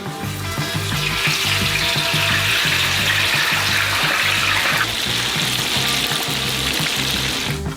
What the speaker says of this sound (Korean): 뜨거운 기름에 감자딥을 담그세요.